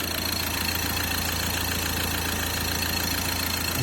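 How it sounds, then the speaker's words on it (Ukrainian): A small compressor motor runs steadily nearby in a Ford Transit passenger van, a constant low hum with a faint rhythmic throb. "тепер от працює моторчик"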